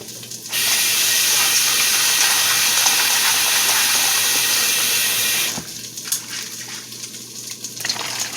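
Kitchen tap water gushes steadily while pinto beans are rinsed, a loud continuous hiss for about five seconds that then cuts off, leaving softer splashing and handling noises.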